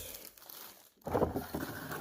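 Plastic bag crinkling as a Ridgid 18V hybrid forced-air propane heater is unboxed, with a quieter rustle first, a brief pause, then louder, close crackling handling noise.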